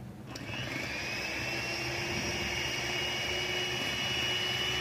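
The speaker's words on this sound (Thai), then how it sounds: "เราจะตีไข่ขาวให้เป็นสีขาวนวลมีลักษณะเป็นริบบอนแล้วก็ตั้งยอดอ่อนค่ะ" An electric mixer beats egg whites with sugar for a soft orange chiffon cake at medium speed, giving a steady, close whirring drone that starts abruptly and holds unbroken.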